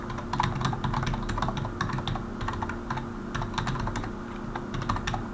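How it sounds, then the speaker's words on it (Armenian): Fast typing on a computer keyboard while entering an email address into a website sign-up form: a dense, continuous patter of close key clicks over a low hum, with no speech. "ես գրեմ, դուք տեսեք"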